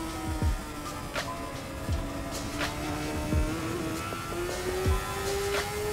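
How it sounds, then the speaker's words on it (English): Honda CBR600 motorcycles in a WERA vintage medium weight race whine at high revs, with several bikes sweeping past one after another in quick doppler passes against a steady background engine drone. "this is all CBR 600s up here in this V8 medium weight race"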